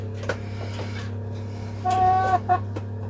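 Birkivska barvysta chickens cluck softly over a constant low electrical hum, with a few scattered calls and one louder drawn-out cluck near the end.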